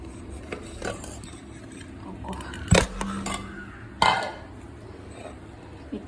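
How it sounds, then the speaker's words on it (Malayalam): A spoon stirs spice powders into jaggery syrup for karkidaka laddu, scraping and clinking against a metal pot in steady, close strokes, with two sharper knocks standing out. "ഈ പൊടികളെല്ലാം കൂടി ഇട്ട് മിക്സ് ചെയ്യണം കേട്ടോ"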